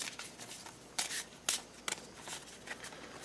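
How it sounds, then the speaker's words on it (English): Magic: the Gathering cards are overhand shuffled by hand nearby, giving quiet papery riffles broken by several sharper slaps as packets drop, with a steady, uneven rhythm. "I'm not going to do an entire pile shuffle here. Just going to overhand it."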